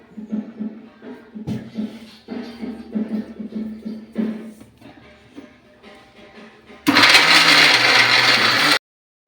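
A kitchen mixer grinder whirs loudly, blending red chilli powder, turmeric, salt and wet green chillies into a smooth spice paste, a sudden dense roar running for about two seconds after a stretch of quieter clatter and handling.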